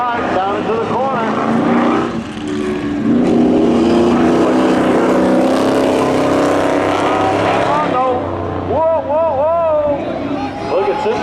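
Race cars launch and race at Seekonk Speedway spectator drags, their engines roaring and rising in pitch close by, with a commentator talking over the action.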